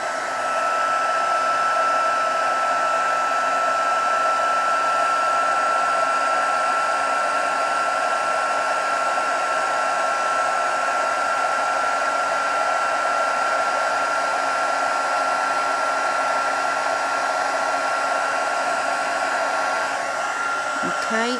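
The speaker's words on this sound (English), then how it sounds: "this is not as loud as some of the heat tools that I've heard" A heat embossing tool blows hot air in a continuous, even whoosh with a steady whine, warming up for stamped card-making and running unbroken for about twenty seconds with no talk.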